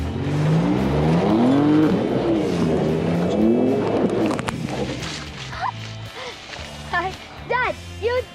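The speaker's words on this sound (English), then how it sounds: "I want to get like these tires spinning" A Ford Raptor off-roading with its tires spinning, the engine roaring loudly and continuously through the first half before easing off, with excited voices talking over it near the end.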